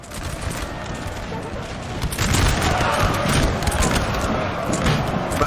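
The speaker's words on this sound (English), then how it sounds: "Russia's actually putting up quite a salvo of small arms fire that's really starting to break this line" Russian small arms fire crackles in a sustained volley during a Napoleonic line battle in Napoleon Total War, a dense rattle of musket shots that swells louder midway, while a commentator talks over it.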